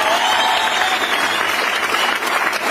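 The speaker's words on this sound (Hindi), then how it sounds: "जोरदार तालियां रिच मॉम एंड डैड के लिए" Sustained applause from an audience at a DXN business meeting, a dense wash of clapping that stays loud and steady throughout.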